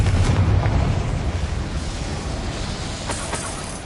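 A Confringo spell explosion in a magical adventure video game goes off as a loud, broad boom with a rumbling low end at the start, then decays into a long crackling, hissing wash with faint later pops.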